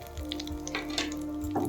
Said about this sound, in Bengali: একটা শুকনো লঙ্কা আর গোটা গরম মশলা।